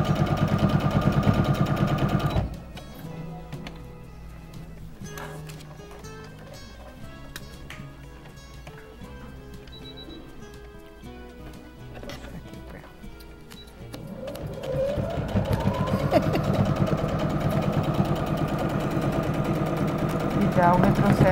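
A sewing machine stitches a bag organiser in rapid runs with pauses and ticking between, then speeds up into a final backstitch, close by, with someone talking over parts of it.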